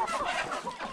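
Chickens clucking at feeding time, a short burst of close, overlapping hen calls with a busy farmyard murmur.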